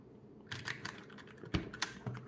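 Keys on a GMMK Compact barebone keyboard fitted with new keycaps are pressed in a quiet room, giving a handful of close, soft, irregular clicks and clacks with brief pauses between.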